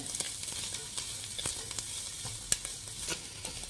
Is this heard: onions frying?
yes